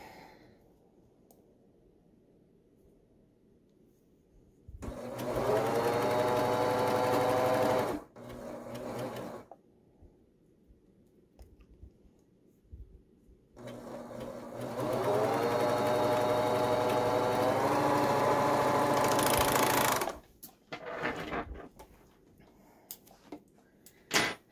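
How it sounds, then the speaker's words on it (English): A serger overlocks the edge of a fabric triangle in two bursts of steady mechanical whirring, each several seconds long, separated by quiet pauses and followed by light clicks and handling noises. "So I have serged the bottom edge of the triangle."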